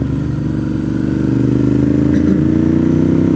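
A motorcycle rides along a rural back road near Tellico Plains, its engine droning steadily up close and building slightly in intensity, with wind rushing past.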